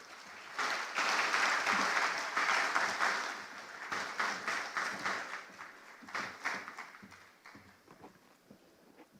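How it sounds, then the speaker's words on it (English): An audience at an agricultural development summit in Nigeria applauds a speaker, Dr. Winifred Madume, with sustained clapping that gradually thins out into scattered claps and fades toward the end. "Please, another round of applause for Dr. Winifred Madume"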